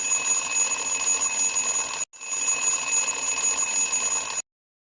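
Electronic alarm clock ringing with a shrill, steady high-pitched tone, close and loud, stopping for a split second near the middle, then continuing before cutting off into silence.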